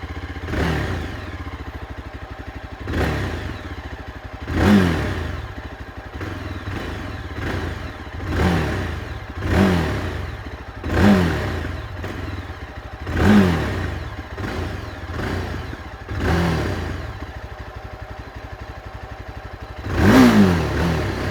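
A Yezdi Adventure motorcycle engine idles with a steady low exhaust rumble, blipped repeatedly in regular revs that swell and fall about every two seconds, close by with no talk.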